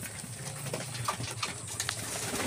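Racing pigeons coo at a loft trapdoor, with soft repeated cooing calls over a steady outdoor background and a few light taps, up close and moderately loud.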